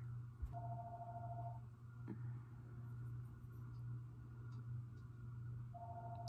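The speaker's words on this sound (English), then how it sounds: "My house phone is ringing." A house phone rings indoors in two separate electronic trilling bursts several seconds apart, faint and distant beneath a steady low hum, with no talking.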